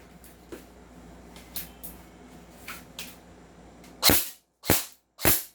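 An M4A1 Medusa Black airsoft gun fires several soft snapping shots, a few faint pops early on followed by three loud, sharp single cracks spaced about half a second apart near the end.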